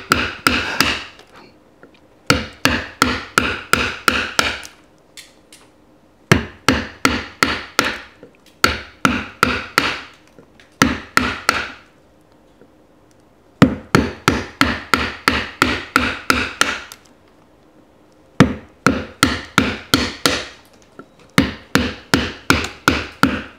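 Hand chisel and mallet cutting a wooden block for Japanese woodblock printmaking: rapid bursts of sharp tapping strikes in steady rhythmic runs, separated by short pauses, close and crisp.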